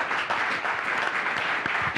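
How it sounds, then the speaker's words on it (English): An audience applauds a panel at the close of a Chicago marketing conference, giving steady, moderately loud clapping that fills the room with no voices over it. "Please, a big round of applause for the panel."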